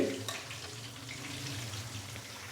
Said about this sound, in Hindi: अभी मीडियम से लो फ्लेम पे इसको मज़ीद 5 से 7 मिनट के लिए फ्राई कर लेंगे